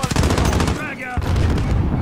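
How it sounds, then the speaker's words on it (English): Kilo 141 assault rifle fire in a multiplayer shooter match on the Piccadilly map, rapid close automatic bursts with a brief gap mid-way, loud and up front. "Kilo rifle is a beast."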